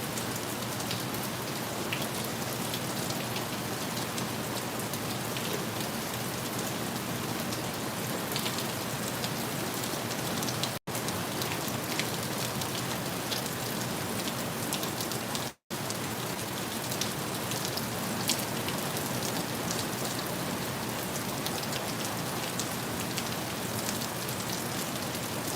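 Heavy rain pours down steadily outside a door on a property, a dense continuous hiss of drops that stays loud and even throughout, with no voices.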